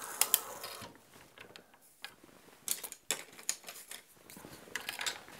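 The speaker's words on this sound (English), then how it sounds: "we're going to feed in cane into the pre-gouger and turn a handle, and it has a blade underneath here" A hand-cranked bassoon reed pre-gouger with a blade underneath shaving fed cane; close, irregular scraping and ratcheting bursts with a few sharp clicks and brief pauses.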